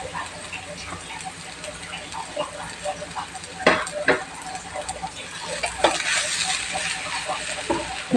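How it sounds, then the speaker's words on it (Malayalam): Masala being stirred together with mashed potato in a pan for chicken cutlets: soft scraping and stirring with light sizzling, a few sharper clinks of a spoon against the pan, moderately close and steady throughout. "നന്നായിട്ട് നമുക്ക് മസാലയൊക്കെ കൂട്ടി ഇളക്കാം നമുക്ക് പൊടിച്ചു വച്ചേക്കുന്ന കിഴങ്ങ് ഇട്ട് കൊടുക്കാവേ"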